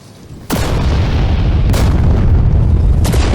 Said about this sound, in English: This massive explosion rocks the ship for a second